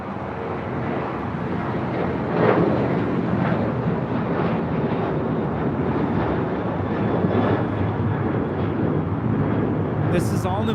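All Nippon Airways Boeing 787-9 Dreamliner landing at LAX, a continuous broad jet roar with wind rush, steady and fairly loud at a distance, with people talking over it.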